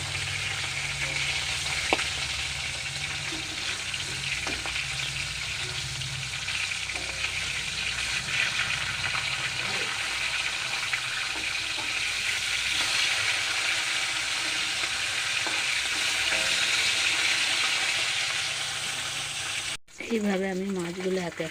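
Fish pieces frying one by one in oil give a continuous close sizzle with occasional pops and crackles, and a voice speaks briefly near the end.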